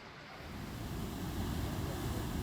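Water rushes through a man-made, filtered whitewater rafting channel in a steady, dense roar that fills the clip. No voices are heard.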